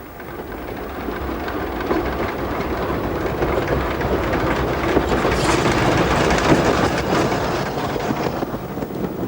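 An LNWR steam tank engine rolls along the rails with a continuous loud rumble and rhythmic clatter of wheels, close by and steady throughout.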